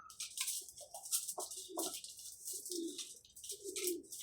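Young pigeons coo softly and repeatedly at close range, low murmuring calls coming in short bursts over a hiss of background noise, with no talking.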